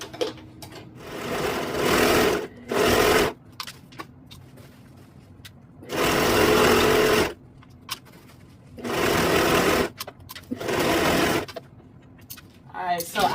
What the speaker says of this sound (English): this is a lot of serging